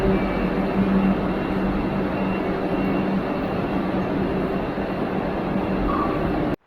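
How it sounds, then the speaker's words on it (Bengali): A Vande Bharat Express train arrives at Villupuram Junction, a loud continuous rolling rumble with a steady whine heard from on board, ending abruptly. "নির্দিষ্ট সময় থেকে খুব একটা দেরি না করেই আমাদের ট্রেন পৌঁছে গেল ভিল্লুপুরাম জংশনে।"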